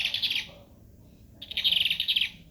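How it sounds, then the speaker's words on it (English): A toy hummingbird giving two bursts of high, rapid chirping trills, close and clear, separated by a short pause, with no talking. "His name is a hummingbird."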